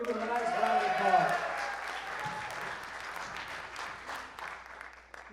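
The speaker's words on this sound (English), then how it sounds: "Give him a nice round of applause." Audience at a comedy show in a theatre breaking into applause, a broad wash of clapping that swells early and then slowly fades, mixed with a voice over the top.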